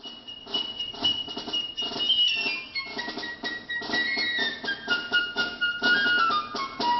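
A solo piccolo plays a rising Lydian-mode scale from Prokofiev's Lieutenant Kije suite, bright high sustained notes over soft orchestral accompaniment, moving steadily through the phrase at moderate loudness with no voices.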